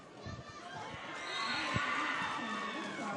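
Roller derby crowd in a bout venue cheering and shouting continuously, swelling louder midway, with a commentator's voice running over the noise.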